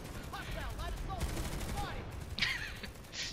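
Overlapping rapid-fire gunfire from many players spraying weapons in Planetside 2 on the Hossin map, a dense continuous clatter of shots running throughout, with a voice talking over it.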